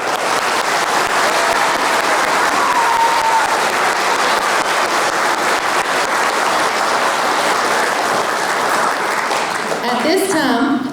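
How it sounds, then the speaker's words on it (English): Steady, dense applause from an audience at a middle school JAG program ribbon-cutting ceremony, sustained at even loudness for several seconds before tapering at the end. "Give them a round of applause."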